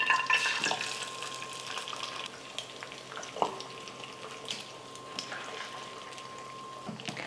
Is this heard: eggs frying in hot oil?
yes